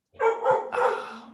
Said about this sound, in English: The dog is just having a freaking barkathon right now.